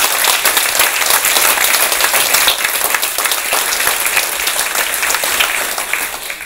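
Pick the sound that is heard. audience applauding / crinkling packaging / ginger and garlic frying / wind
audience applauding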